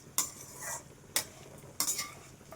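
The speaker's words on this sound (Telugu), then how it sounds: "బాదం, జీడిపప్పు అన్నీ ఇట్లా నెయ్యిలో వేయించుకోవాలి" Almonds and cashews fry in ghee in a pan, stirred with three distinct metal scrapes over a quiet, steady sizzle, no voices.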